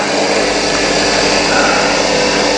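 A machine tool cuts a diesel engine crankshaft in a workshop engine build, taking it down to size, giving a loud, steady high-pitched whine that holds unbroken throughout without talk.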